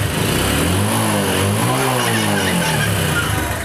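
A motorcycle engine runs steadily and loudly after a kick start, following a kick compressor problem, with a close, continuous rumble and a droning tone throughout.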